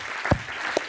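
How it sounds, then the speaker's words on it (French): A conference audience applauds during a live event, a short burst of clapping with a couple of louder individual claps. "Marc Chaussidon, que vous pouvez applaudir également."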